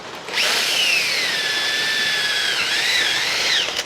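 A power drill punches a vent hole in the top of an oil filter on a John Deere LA125 riding mower. It gives one steady, loud, high whine lasting over three seconds, with the pitch sagging as the bit bites and then rising again near the end.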